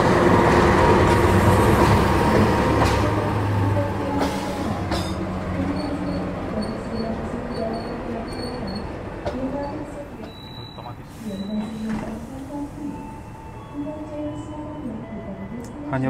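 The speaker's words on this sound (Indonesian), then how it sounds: "Hanya berhenti sebentar, Lodaya langsung berangkat lagi." KA Lodaya passenger train pulling out of a station on single track, a steady rumbling roll with wheel clatter and brief high squeals, loud and close, with people talking faintly nearby.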